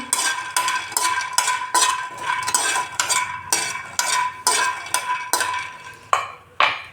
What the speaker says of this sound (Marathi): तर शेंगदाणे भाजून घेऊ।